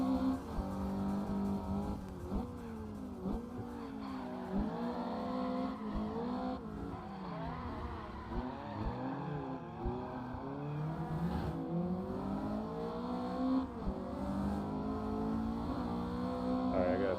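Racing car engines in the Assetto Corsa video game, including a Honda Integra, rev and shift continuously, with rising and falling engine pitch and occasional tire noise, moderately quiet and steady throughout.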